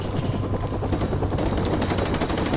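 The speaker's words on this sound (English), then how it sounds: "The chopper is circling." A circling helicopter in Call of Duty Modern Warfare Remastered gives a loud, steady rotor thump with a continuous low drone, pulsing rapidly throughout and filling the scene without pause.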